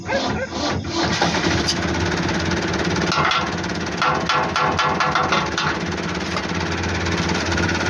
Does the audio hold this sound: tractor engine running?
yes